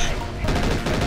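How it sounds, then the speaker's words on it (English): Weapon fire from a battle mech in MechWarrior 4: Mercenaries, a loud, continuous run of rapid overlapping shots. "Yep, I'm firing at them."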